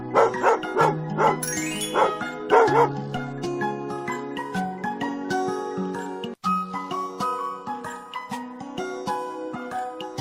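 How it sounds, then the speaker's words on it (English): A dog barks a few times near the start, sharp yips layered over bright, steady background music that carries on to the end. "Dog."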